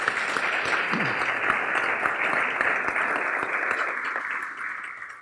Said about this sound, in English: I want to give everybody in here a round of